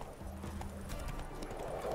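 A horse's hooves clip-clop in a steady trotting rhythm in Witcher 3, close and clear against a low background rumble, with no talking.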